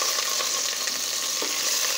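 Chicken frying in a little oil to brown the skin, a steady close sizzle and crackle without talk.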